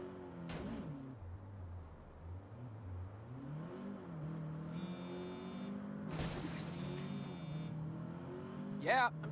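Car driven in the video game Saints Row (2022), a steady engine drone rising and falling in pitch as it revs and shifts, with a couple of sharp bangs and talk over it.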